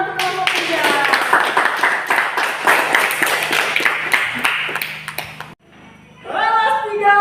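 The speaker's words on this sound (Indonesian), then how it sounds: "Tepuk tangan untuk kelompok 3" A classroom of young students claps together for a presenting group, brisk and busy for about five seconds before stopping abruptly, followed by children's voices.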